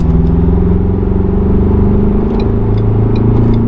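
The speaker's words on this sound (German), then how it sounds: "Boah, wir fahren jetzt den fünften Gang." A Ford Ranger pickup truck accelerates through the gears, its engine a loud, steady close-up drone and rumble from inside the cab, with faint clicks near the end.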